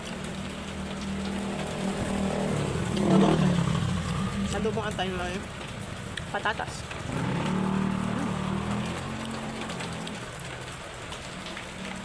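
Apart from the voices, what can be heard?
heavy rain during a storm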